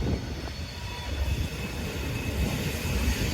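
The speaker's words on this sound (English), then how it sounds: "More coal trains." A heavy coal train hauled by three locomotives rumbles past close by in Tamworth, a steady low roar of wheels and wagons with no break in the noise.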